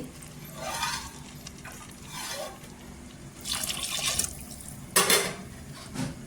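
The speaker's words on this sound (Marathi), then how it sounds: "इथे 2 ग्लास पाणी टाकते।" Water is poured in splashing bursts into a pressure cooker holding spiced chickpea curry, with several separate pours of rising and falling noise, the last one sharper and louder, at a fairly soft overall level and without talk.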